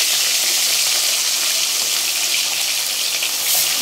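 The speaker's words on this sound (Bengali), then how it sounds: "নিয়ে এবার আমি তেলের মধ্যে আস্তে আস্তে মাছগুলোকে ছেড়ে দেব।" Pieces of fish are eased into well-heated oil in a pan for doi mach, giving a close, loud, steady hissing sizzle that holds without a break for the whole stretch, with no talking.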